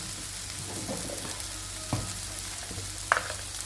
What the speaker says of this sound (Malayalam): ഇങ്ങോട്ട് നമുക്ക് നന്നായി ഒന്ന് ഇളക്കി ആ പച്ച മണമൊക്കെ ഒന്ന് പോകുന്നിടം വരെ ഒന്ന് ഫ്രൈ ചെയ്തെടുക്കണം